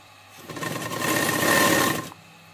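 A sewing machine stitches a burqa neck strip in one close, steady whirring burst of about a second and a half, starting and stopping abruptly.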